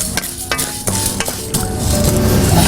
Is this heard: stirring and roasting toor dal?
yes